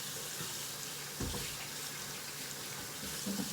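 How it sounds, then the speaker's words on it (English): Hands are washed under a running kitchen tap, a steady close splashing stream of water with small shifts as the hands move through it. "I'm going to wash my hands now."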